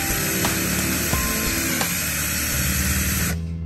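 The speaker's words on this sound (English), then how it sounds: "when you're drilling, the main thing with this is you drill and you don't let go of the trigger until the drill is completely released from the workpiece" A handheld trigger drill runs continuously as it bores into a workpiece, a steady whining buzz with slight shifts in pitch as it cuts, then winds down at the end.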